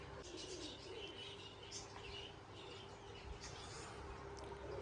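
Pigeons coo faintly amid soft chirps and background noise, a low and distant murmur of calls with no clear speech.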